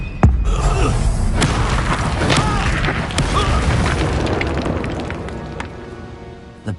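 In a Harry Potter video game, a Confringo explosion spell lands with a loud booming blast followed by a sustained rumbling crash and scattered debris impacts, close and dominant throughout.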